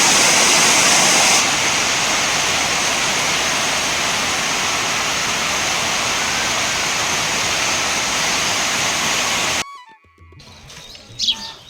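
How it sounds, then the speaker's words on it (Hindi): Heavy rain pours down at the Sai ashram in Awalighat along the Narmada, a loud, unbroken hiss of falling water that cuts off abruptly near the end, leaving faint scattered sounds. "और दोस्तों बहुत तेज़ ही बारिश हो रही है।"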